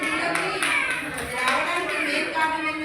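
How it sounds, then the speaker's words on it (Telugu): Applause from a small gathering: scattered hand claps in quick bursts, with children's voices and chatter mixed underneath throughout. "క్లాప్స్."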